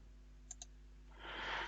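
Two quick, quiet mouse clicks about a tenth of a second apart, close and dry, then a soft rush of broadband noise rises behind them.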